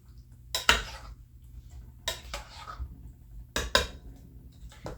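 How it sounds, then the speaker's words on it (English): Spoon stirring a homemade potato salad with pickle in a bowl, giving a few separate scraping clinks and scrapes against the bowl, spaced out over a quiet background. "We're going to give it a stir."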